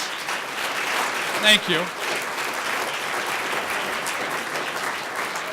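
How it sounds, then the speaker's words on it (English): Audience applause at a talk, a steady, dense clapping that fills the whole span, with a brief spoken thank-you rising over it early on. "Can we give him a round of applause?"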